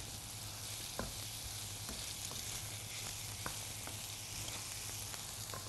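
Onions frying and sizzling in a pan while being stirred, a steady loud hiss with sharp scrape-like clicks from the spoon every second or so, no talking.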